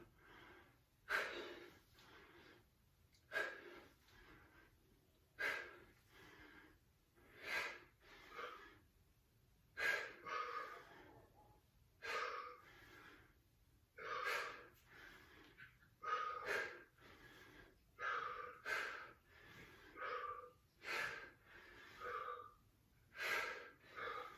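Heavy rhythmic breathing during a bodyweight workout with push-ups, sharp gasping exhales recurring roughly every second or two, close and loud over a quiet background.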